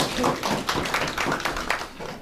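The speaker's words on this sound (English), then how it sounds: "Can we clap for him?" Audience clapping at a university workshop on generative AI, a quick burst of taps lasting about two seconds, moderately near and fairly even.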